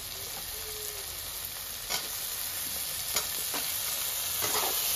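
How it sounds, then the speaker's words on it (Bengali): Chopped tomatoes going into a frying Bengali fish curry with cauliflower, giving a steady broad sizzle with a few soft stirring scrapes and clicks, close and continuous, with no talk. "এবার দিয়ে দিচ্ছি বড় বড় কাটা টমেটো।"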